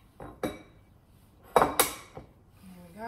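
Eggs cracked into a bowl while making quick cupcakes: a few sharp knocks against the rim, then a louder pair of close cracks, a quieter tap, and a short bit of talk at the end.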